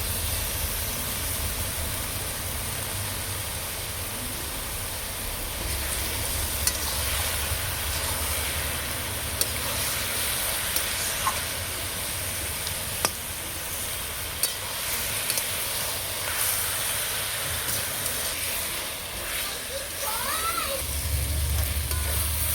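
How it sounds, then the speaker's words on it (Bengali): Cabbage and green peas sautéing in a pan for a vegetarian dish, a long even sizzle with a few faint utensil clicks and scrapes over it, no voices. "বাঁধাকপি আমার খুব সুন্দর করে কষানো হয়ে গেছে"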